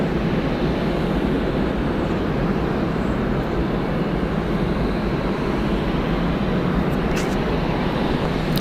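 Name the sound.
aircraft taking off at Atlanta Hartsfield-Jackson airport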